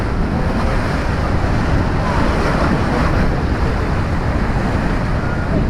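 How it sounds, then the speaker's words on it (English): The Rhine Falls waterfall roars close by from a tour boat, a loud, continuous wash of crashing water mixed with wind buffeting the microphone. "This is the pond and this is the waterfall."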